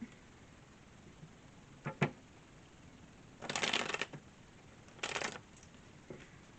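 Tarot cards slide and shuffle across a tabletop in several short bursts: two quick flicks, then two longer brushing sweeps and a faint final tap, close and fairly quiet with no talking.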